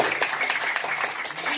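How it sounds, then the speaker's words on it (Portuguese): Church congregation applauding during a Portuguese-language sermon, a steady, dense wash of clapping from many hands filling the short span, with a voice speaking over it. "Dê uma salva de palmas ao Senhor."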